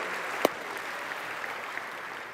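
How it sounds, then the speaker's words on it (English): Applause at the EA E3 2015 press conference for Robert Flores, a steady, fairly faint wash of clapping with one sharp louder clap near the start, no voices over it. "Let's give a big round of applause for Robert Flores."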